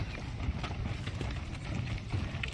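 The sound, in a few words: camel pulling a heavy load, footsteps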